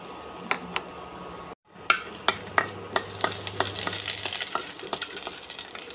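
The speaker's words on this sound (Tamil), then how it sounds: "அதை இப்போ இதில் சேர்த்து ஒரு தடவை வதக்கிக்கலாங்க" Chopped garlic, ginger and green chilli hit hot oil in a pan: a brief pause, then sharp spatula taps and clinks over a rising crackling sizzle that builds and continues, close and without speech.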